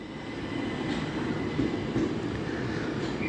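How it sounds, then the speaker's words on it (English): A Southeastern Class 375 electric passenger train rumbles past at Ashford station, a steady, fairly distant roar of wheels and motors that holds constant through the short stretch with no voices. "the 10:55 Southeastern service from London Charing Cross to Ramsgate"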